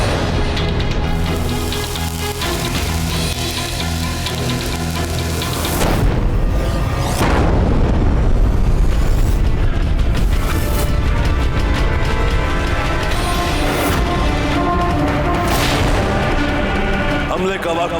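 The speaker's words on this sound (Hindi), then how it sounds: "शीघ्र निशाना लगाओ इस तोप पर, यही सबसे ज्यादा नुकसान कर रही है हमारा।" Heavy cannon fire booms repeatedly during a Mughal assault on Chittorgarh fort, dense and continuous with deep rumbling blasts layered over battle noise and dramatic music, loud throughout.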